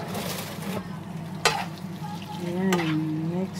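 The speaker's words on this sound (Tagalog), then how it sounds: "lagyan po natin ng soy sauce" Soy sauce goes into a frying dish that is then stirred, giving a steady sizzle with a sharp scrape or clack and a low hum, brief tonal squeaks near the end.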